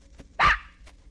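A puppy gives one sharp, close bark, loud and alone against a quiet background.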